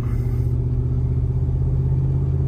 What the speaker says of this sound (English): The truck just stays in gear, and then it slams into either a downshift or upshift or just hunts around.